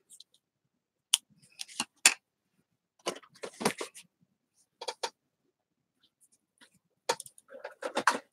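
Scissors snipping thread while making a journal insert, a few sharp, close clicks and snips spaced irregularly across otherwise quiet surroundings.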